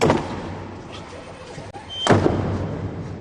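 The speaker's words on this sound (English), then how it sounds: "The doors then shut." The heavy doors of the Sistine Chapel shut at the start of a papal conclave, a single loud, resonant thud that follows a short click and fades into a reverberant room murmur.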